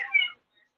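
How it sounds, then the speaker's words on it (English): A black short-haired tuxedo cat gives a single short meow in the background, fairly close and clear, followed by silence. "A cat in the background? That was my cat."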